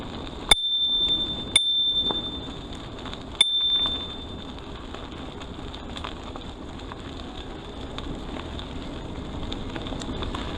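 Three sharp rings of a flick bell on a 2018 Riese & Muller Nevo e-bike, spaced over the first few seconds and ringing out clearly above steady wind and rolling noise while riding outdoors.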